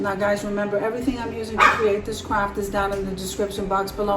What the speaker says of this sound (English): And yes, that is my dog in the background.